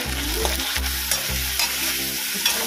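Onion paste frying in a pan for a Bengali aar fish curry, a constant close sizzle under regular spatula strokes that thump and scrape about every half second, fairly loud, with no talking.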